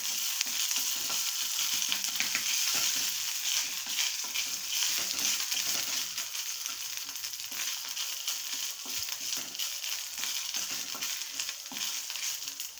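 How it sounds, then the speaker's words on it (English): Ginger and green chilies fry in a pan for spicy Indian masala pasta, giving a steady, dense sizzle with faint stirring scrapes underneath. The sound is continuous and fairly even, with no talking. "We will stir it, and after adding ginger, we will put green chilies in it. Mix it well."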